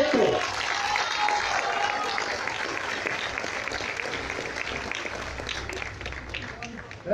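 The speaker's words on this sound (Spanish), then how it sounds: "Fuerte el aplauso para recibir a Arturo de Rosas Cuevas," A crowd at a political event in Mexico applauds to welcome an elected deputy, a steady, somewhat distant wash of clapping with voices mixed in, holding evenly throughout.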